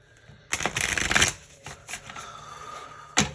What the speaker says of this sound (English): Let's pull you some more cards